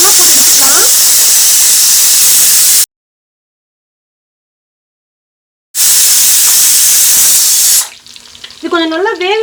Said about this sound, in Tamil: இப்போ எண்ணெய் சூடாயிருச்சுங்க.